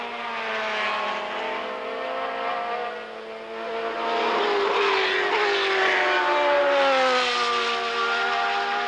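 Vintage Can-Am race cars at Lime Rock, 1985, drone past with high, sustained engine whines whose pitch sweeps up and down as they accelerate, loud and continuous against the track.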